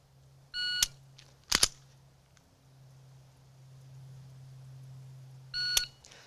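An electronic shot timer sounds during a pistol trigger press drill on a range: a bright beep, a sharp loud crack soon after, a low steady hum, then a second beep near the end, with no talking.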